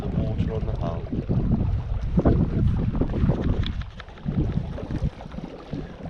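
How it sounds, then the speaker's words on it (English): Water slapping and rushing along the hull of a sailing Mirror dinghy on the Faversham tidal flow, uneven gurgling washes mixed with wind buffeting on the microphone, close, with brief talk at moments. "You hear that relaxing sound of the water on the hull."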